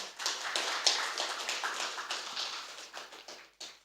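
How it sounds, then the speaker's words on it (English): A seminar audience applauds, a steady close patter of many hands clapping that fades out toward the end. "If we can have a huge round of applause for him."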